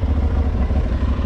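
A trail motorcycle with the same engine as the Aprilia RS660 idles steadily with a low, throbbing rumble and light mechanical clatter, close and continuous.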